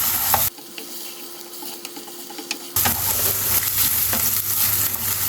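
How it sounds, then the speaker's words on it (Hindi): Chicken pieces fry over a slow flame with a steady, moderate sizzle, cut off briefly and then resuming, while occasional scrapes and taps of stirring sound through. No one speaks. "चिकन को हल्का सा गोल्डन कलर आने तक फ्राई करेंगे।"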